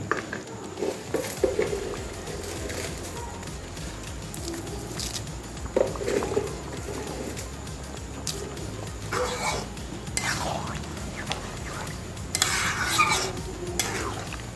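A spoon stirs rice, water and sugar in a pot for muri ghonto, giving soft continuous scraping and scattered light clinks, faint and fairly close, with no talk.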